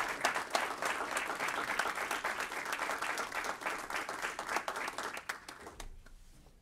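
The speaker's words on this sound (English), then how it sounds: "Give them a nice round of applause." An audience at a Davenport city council meeting breaks into sustained applause, many hands clapping together in a dense, lively wash that fades out abruptly near the end.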